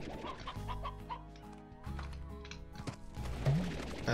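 Chickens cluck and squawk in the Slime Rancher video game, several short clucks repeating over a steady game hum with no talk.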